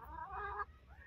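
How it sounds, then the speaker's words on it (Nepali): A hen that grazes and scratches in the grass outdoors gives a short, soft run of throaty clucks. The clucks come up close in one brief burst with no other sounds around them. "पठाइदिनु भएको कुखुरा यहाँ नि खनेर,"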